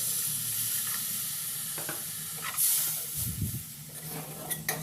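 Frying food in a pan sizzles with a steady hiss, then water is added and the sizzle flares into bursts as the mixture is stirred, with scraping and clatter.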